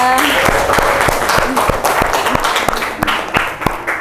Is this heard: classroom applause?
yes